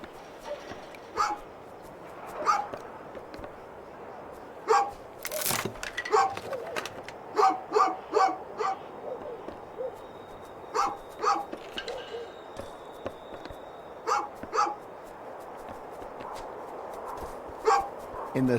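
A dog in the video game A Juggler's Tale gives short sharp barks and yips in irregular bursts over about twenty seconds, loud and near, mixed with game music and a narrator's voice.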